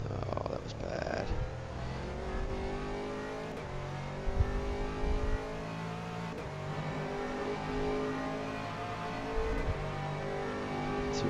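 GT3 race car on track at Paul Ricard, its engine droning steadily with harmonic tones rising and falling through gear changes, a few sharp blips on downshifts, heard from on board with no talking.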